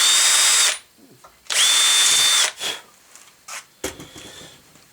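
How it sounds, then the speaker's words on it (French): A small power drill from Lidl whines loudly in two bursts, the second running about a second, with knocking and handling sounds in the pauses between. "fait son taf, la petite perceuse de chez Lidl"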